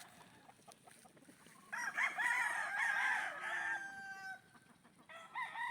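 A rooster crows once, loud and close, at a farm near a cornfield, followed by another shorter call starting, over faint background rustle.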